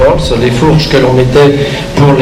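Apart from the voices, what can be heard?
None of the usual background noises is heard.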